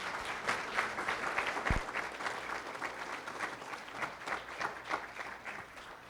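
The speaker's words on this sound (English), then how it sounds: "Please give them a round of applause." Faint, steady applause from an audience at a community awareness presentation, a soft continuous patter of clapping heard from a distance with no talking.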